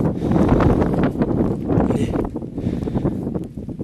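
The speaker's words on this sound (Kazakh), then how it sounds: "Жел, жаман." Wind gusts buffet the microphone in uneven rumbling bursts, loud at first and easing slightly toward the end.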